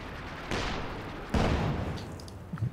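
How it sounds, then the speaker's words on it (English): An artillery barrage in the Company of Heroes 2 strategy game, heard as two heavy booming shell impacts about a second apart over rumbling battlefield noise, with faint scattered gunfire in the background. "Looks like he's going for a regular barrage here though, maybe?"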